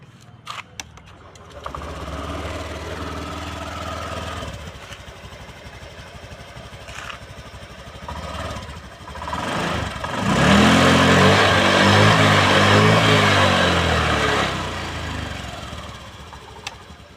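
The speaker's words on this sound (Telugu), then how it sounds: "Okay guys, bike engine sound అయితే వినేశారు కదా." A Honda Activa 6G scooter engine cranks and starts, then idles steadily close by, with a louder burst of revving midway before settling back to a smooth idle.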